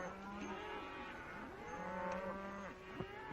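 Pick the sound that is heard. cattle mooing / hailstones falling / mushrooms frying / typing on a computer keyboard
cattle mooing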